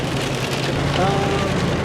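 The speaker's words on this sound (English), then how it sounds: "So finally, in April, we're getting a lot of rain, which is very, very needed." Steady rain falls on surfaces outdoors during a drought-breaking April shower, a dense even patter with a faint low rumble underneath.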